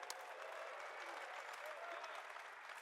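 Conference audience applauds and cheers for the Seattle Seahawks in a large hall, a dense, sustained wash of clapping from many people with scattered whoops, continuous from start to end.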